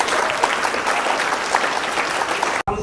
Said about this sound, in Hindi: तो एक बार जोरदार तालियां मैडम के लिए।